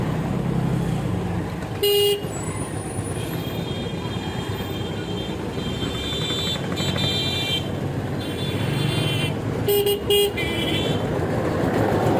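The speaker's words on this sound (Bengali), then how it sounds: "আর আমি হর্ন বাজাচ্ছি তখন থেকে" A car horn honks in two short blasts on a village road amid steady traffic noise and engine rumble, with voices faintly in the background.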